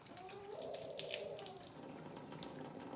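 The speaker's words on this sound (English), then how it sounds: "I'm just gonna wash my hands." Warm tap water runs steadily into a sink during handwashing, a close, continuous splashing hiss with no voices.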